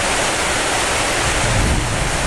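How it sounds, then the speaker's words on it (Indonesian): Heavy rain pours outdoors as a dense, loud, unbroken hiss with no voices over it. "Nah, ini suara hujan aslinya."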